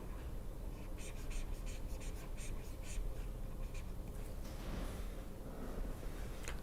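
Marker squeaking as it draws on an airfoil diagram in a lecture on grid generation, a run of short rhythmic scratchy strokes over a steady hiss of room noise, faint and close.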